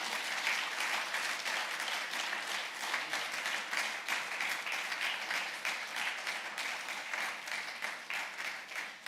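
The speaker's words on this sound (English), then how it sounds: "Another round of applause" A steady round of audience applause follows a banking presentation at an investor capital markets day, with sustained, even clapping that is moderately distant and continues for about nine seconds.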